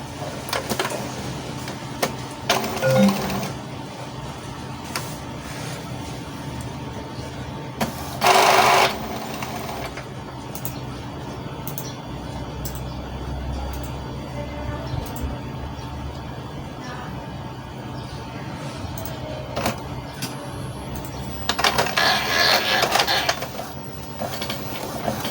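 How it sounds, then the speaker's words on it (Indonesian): Epson inkjet printer starting up after power-on for a nozzle check, giving soft mechanical whirring with a few louder bursts of carriage and feed motion spread across a long, fairly quiet stretch. "kita nyalakan printernya"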